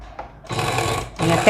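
A sewing machine stitches along the center seam of a Japanese-sleeve dress, running in two close, steady bursts separated by a short pause.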